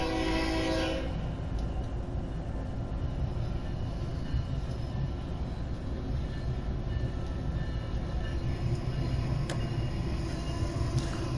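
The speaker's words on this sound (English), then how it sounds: "that was a Canadian Pacific set of locos going through" Canadian Pacific locomotives in a Train Sim World game rumble past in a dense, continuous roar, with a loud horn blast at the start and a brief squeal later.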